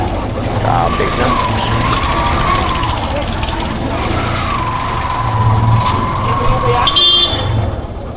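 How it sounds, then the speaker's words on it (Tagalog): Road traffic with car horns, a long sustained honk held over a continuous engine and tire rumble, with brief extra toots near the end. "Traffic na."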